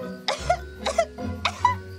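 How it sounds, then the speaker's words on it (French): Three separate coughs, close and fairly loud, evenly spaced with short pauses between them; no talking. "ne t'en fais pas, juste une petite toux"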